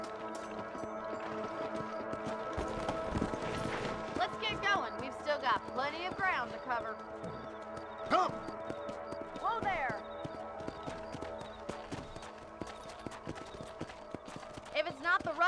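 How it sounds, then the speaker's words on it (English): Horses galloping in the Western video game Red Dead Redemption, rhythmic hoof clops running through the whole stretch over game music and ambience, with a few whinny-like cries rising above. "Let's get back on the horses and see what else is going on."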